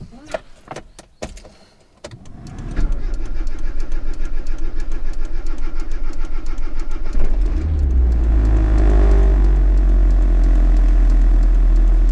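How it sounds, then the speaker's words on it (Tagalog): A car engine cranks and catches after a few sharp clicks, then settles into a steady idle, with the engine note swelling louder toward the end as it revs. "Start na nga natin ang auto natin."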